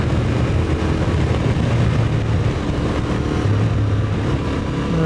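A Yamaha Tenere World Raid adventure motorcycle on its stock exhaust cruises in sixth gear around 5,000 RPM, a steady loud engine drone under heavy wind rush, continuous and unbroken, no talking.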